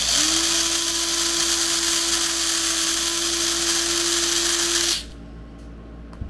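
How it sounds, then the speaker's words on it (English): A small rotary tool with a sanding disc whines at a steady high pitch with a grinding hiss for about five seconds as it grinds the flange off an LED, then cuts off, leaving quiet. "using the sanding disc, you're going to remove the flange around the back"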